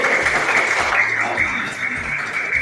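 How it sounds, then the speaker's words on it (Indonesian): A classroom of students claps together in a dense, steady burst of applause for a group's answer, fairly loud and continuous with no talking over it. "Betul sekali, tepuk tangan dulu."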